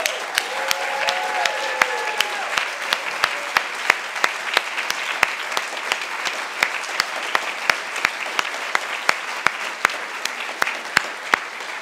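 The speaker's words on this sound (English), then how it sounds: "will join me in a round of applause for all 5 of our" A seated audience applauds Cooperative Hall of Fame inductees at a 2022 ceremony, with continuous steady clapping and sharp individual claps standing out throughout.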